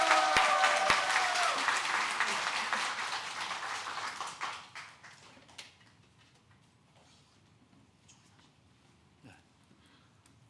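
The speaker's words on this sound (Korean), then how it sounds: "우리 큰 박수로 축하해 주십시오." A church congregation at a Sunday service applauds to welcome a guest singer. The clapping is loud and full at first, then fades out after about five seconds, leaving scattered faint claps and room quiet.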